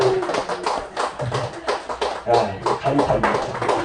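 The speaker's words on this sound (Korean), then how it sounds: "저 한복을 입기 위해서 애쓰시고 수고하시는 우리 김보배 목사님에게 뜨거운 박수 한번 보내주시면 너무 고맙습니다" A church congregation clapping warmly for a pastor in a traditional hanbok, dense overlapping handclaps filling the room at steady loudness, with some voices mixed in.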